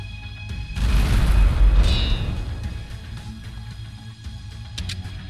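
A heavy tank blown up in the video game Empires Shall Fall, one deep loud boom that swells and rumbles for a couple of seconds before fading into quieter game noise.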